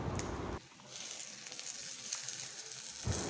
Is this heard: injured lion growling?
no